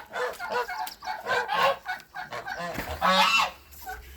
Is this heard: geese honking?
yes